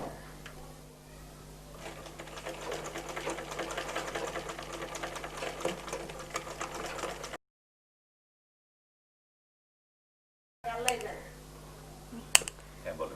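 A sewing machine stitches the shoulder seam of a baby frock in rapid, even bursts. The run stops abruptly into silence, then short clicks and handling noises follow.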